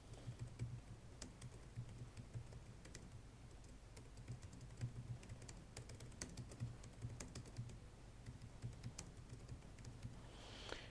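A computer keyboard is typed steadily and fairly quietly for about eleven seconds as a business address is entered, the key clicks near and continuous with no talking.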